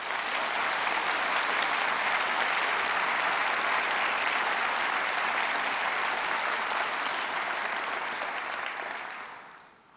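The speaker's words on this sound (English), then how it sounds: "they deserve a big round of applause" A large audience at the Conservative Party conference claps loudly and continuously in a dense, sustained wave of applause that fades out near the end.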